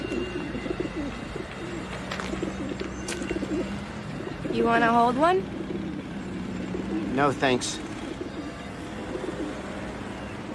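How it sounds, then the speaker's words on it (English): Homing pigeons coo nearby in a few short, throaty rolling phrases, with people talking over them and faint traffic rumbling in the background. "Yeah, they're homing pigeons."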